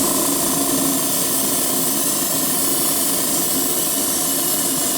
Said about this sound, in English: Not the best airbrush technique here on top of a glossy spoon, but you can see it's picking it up already.